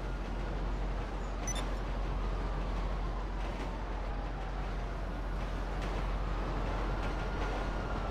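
Steady, continuous rumble of a train rolling along in GTA Online, a broad low roar with a faint drifting whine and a brief high clink near the start, with no talking.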